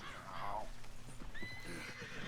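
A horse in Red Dead Redemption 2 gives a loud whinny followed by snorts and clip-clopping hooves amid game ambience, with no talk over it.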